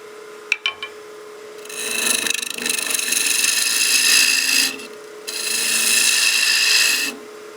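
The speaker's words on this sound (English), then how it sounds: "We're just using that spindle roughing gouge just to remove more of the bulk" Spindle roughing gouge cutting wood on a lathe while turning a bat house ornament, a close, steady rasping scrape in two long passes after a few sharp knocks, with a short pause between the cuts.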